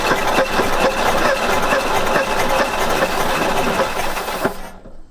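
An abandoned panel truck's engine, sitting unused for about 40 years, cranks and sputters on starting fluid with a leaky carburetor, a loud, steady churning that runs close to the microphone and then cuts off abruptly.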